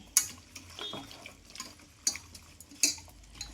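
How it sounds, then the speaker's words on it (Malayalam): Shallots and curry leaves are stirred in a pot for a mutton dish, with a few sharp metal clinks of the spoon against the pot over soft scraping and faint background noise. "കുറച്ച് കറിവേപ്പില കുറച്ച് ഇളക്കിക്കൊണ്ട് കൊടുക്കാം"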